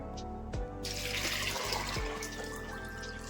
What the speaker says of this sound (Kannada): ನೀರು ಹಾಕ್ಕೊಡಿ.